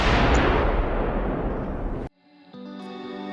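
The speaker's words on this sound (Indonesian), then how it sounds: "Lalu Kaplan memasukkan pistol ke mulutnya dan menembaknya" A single loud, booming pistol gunshot from Resident Evil with a long reverberant tail that cuts off abruptly, followed by quiet music.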